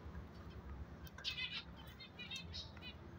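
A pair of pet mutation finches gives a few short, high chirps over a low background hum, faint and intermittent, with no voices.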